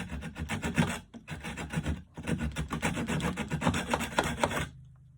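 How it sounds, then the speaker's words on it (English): A small hand saw rasps through a wooden stick in quick, even back-and-forth strokes, close and loud, with two short pauses, before it goes quiet. "So again, I'm sawing away from my body."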